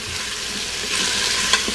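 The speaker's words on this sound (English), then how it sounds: "we have two onions sauteing in the pressure cooker right now" Two onions sauté in olive oil inside a pressure cooker, giving a steady soft sizzle with faint stirring scrapes, close and continuous with no talking.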